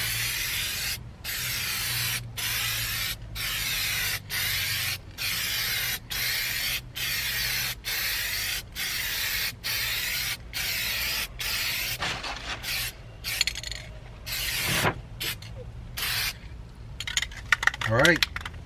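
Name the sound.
spraying a coat onto a sticky RV dash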